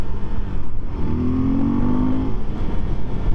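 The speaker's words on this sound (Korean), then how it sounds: "개인적으로 배기 사운드가 3단이 굉장히 예뻤어요" A car's exhaust note builds in third gear as it accelerates, a loud, close, steady engine drone with a rising tone in the middle, and nothing else heard over it.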